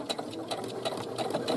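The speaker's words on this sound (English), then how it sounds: "So I went to the end, I back stitched, I hit the needle up button, I lift the presser foot up" A sewing machine stitches a double-stitched sample seam, a steady close mechanical whir with a rhythmic needle clatter running throughout, no talking.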